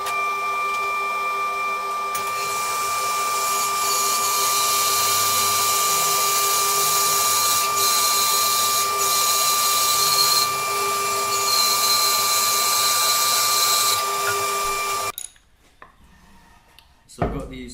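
A band saw rips a rough timber blank lengthwise into two pieces for a laminated guitar neck, its steady whining drone holding for about fifteen seconds before stopping abruptly and leaving quiet room noise.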